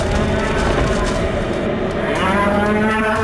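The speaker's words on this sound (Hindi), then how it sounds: "जैसे ही उसने वीर की तरफ देखा तो चिंघाड़ते हुए वीर पर अटैक कर दिया।" A roaring creature that is part bull and part horse gives a loud, sustained bellowing moo-like roar that carries strongly throughout.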